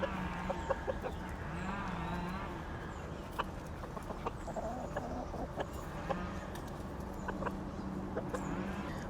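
A flock of chickens keeps up a busy run of overlapping clucks and short squawks for several seconds, fairly close, over a constant low hum.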